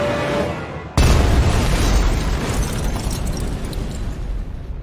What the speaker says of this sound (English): The guy in the boot jumps and he gets about a foot out of the boot before the car explodes.